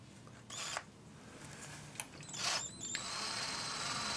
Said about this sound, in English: put it in my cordless drill, and I'm going to just stick the end of the wire in the chuck